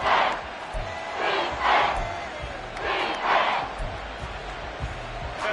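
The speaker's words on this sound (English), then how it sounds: "The Arrowhead crowd in full roar." A football crowd at Arrowhead Stadium roars in loud swelling waves during a late-game third down, with surges and dips of distant mass cheering under faint commentary.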